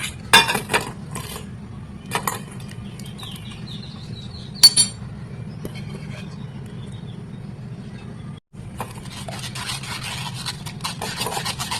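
Mango pulp is pressed through a metal sieve with a utensil, giving a steady low scraping rub broken by sharp clinks and taps of metal on metal, heard close up.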